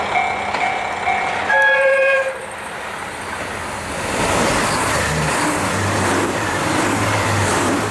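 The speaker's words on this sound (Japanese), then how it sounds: "竹浦駅で13分間停車して、特急北斗15号に道を譲ります。" A Limited Express Hokuto train passes through Takenoura station on JR Hokkaido: a loud horn blast with steady tones, then a rising, sustained rumble and clatter of the passing train that continues to the end, with no voices.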